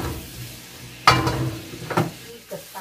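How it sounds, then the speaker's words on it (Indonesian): Sporadic scraping and clinking of a utensil stirring a seasoning mixture in a pan, with a few sharp knocks and soft background sizzle. "Nah, ini aduk sampai rata."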